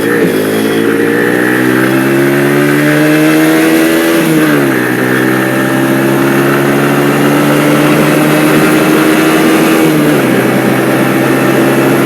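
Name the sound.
motorbike accelerating and shifting into fifth gear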